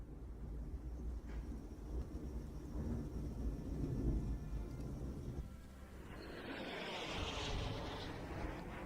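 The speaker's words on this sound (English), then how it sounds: "That's a fucking jet," Jet aircraft passing overhead, a broad roaring rumble that swells and fades, with a brighter hissing whine building near the end, moderately distant and steady with no talk.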